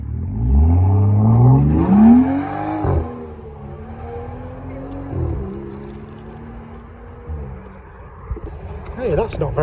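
A TVR Sagaris leaving the Oulton Park circuit, its engine revving hard with a rising howl that peaks and cuts off, then settles to a lower drone as the car moves away, with wind buffeting and brief talk nearby.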